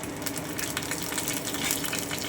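Bay leaves, dry red chillies, cumin, cardamom and cinnamon sizzle in hot oil in a pan, a dense, steady crackling hiss with small pops, loud and close throughout.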